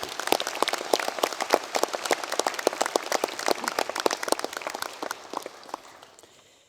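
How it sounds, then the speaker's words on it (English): Crisp clapping from a university graduation ceremony audience at Massey University Manawatū, many sharp hand claps rattling together at a strong, steady level before thinning and fading away near the end. "Another round of applause for Dr. Poutu."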